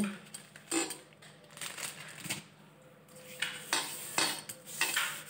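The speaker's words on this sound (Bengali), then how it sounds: "বেসিনটায় জল ভরা আছে, একদম জল আর দিতে লাগলো না, এটাই ঘষে দিলাম।" A water-filled sink basin is scrubbed with soap powder, giving close, irregular clinks, knocks and rubbing scrapes against the basin, with bursts of louder scrubbing and no talk.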